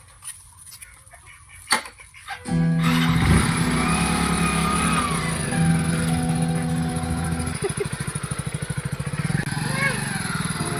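A motorbike starts up and rides off, its engine loud and close after a brief quiet with a few knocks, holding a steady drone before shifting to a rapid pulsing note.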